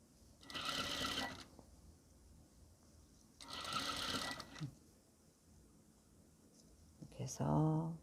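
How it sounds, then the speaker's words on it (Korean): An overlock sewing machine stitches a linen dress in two close, rapid buzzing bursts about a second long each, separated by quiet handling, with a person speaking briefly at the end. "그래서 오바로크를 오바로크 쳐보겠습니다."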